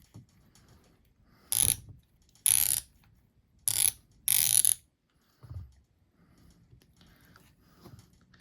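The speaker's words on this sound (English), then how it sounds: "But this is pretty much a specialty ratchet. It sounds nice." An Icon specialty ratchet ratchets in four short, crisp bursts of rapid metallic clicking, with a fainter fifth burst, close and clear against a quiet background.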